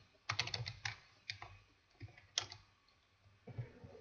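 Keys on a computer keyboard click in short, irregular bursts of separate taps, quiet and close, with brief pauses between groups of keystrokes.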